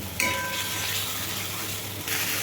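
Spice paste with ground coriander leaf paste frying in a pan for tilapia fish curry, giving a steady, close sizzle with a soft stirring texture throughout and no talk.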